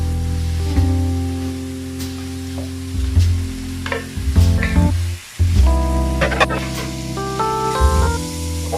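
Duck meat hits a hot pan for Peking duck caldereta, a loud, bright sizzle that swells and drops as the pieces are stirred, with brief clatters and a moment of quiet in the middle.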